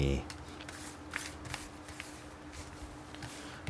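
Tarot cards being shuffled by hand at close range, a soft continuous riffling patter with small clicks, while someone talks quietly over it.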